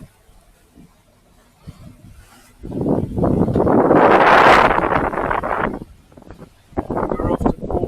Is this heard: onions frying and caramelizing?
no